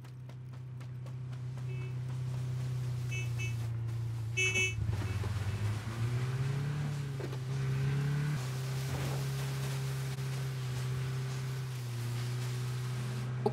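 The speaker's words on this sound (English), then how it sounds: "Oh, there's someone driving up here." A vehicle in PUBG, in a snowy blizzard custom game mode, drives nearby with a steady low engine drone that shifts pitch midway, holding at a constant moderate level throughout with a brief horn-like tonal burst and no talk.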